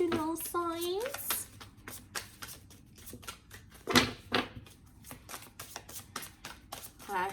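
Tarot cards are riffled and shuffled in quick, crisp bursts close by, with a voice speaking briefly near the start.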